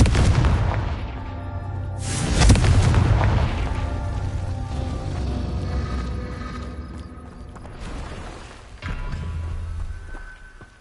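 Confringo fire spells from the video game Hogwarts Legacy burst in loud booming explosions, two heavy blasts with rumbling tails over a continuous dense battle din.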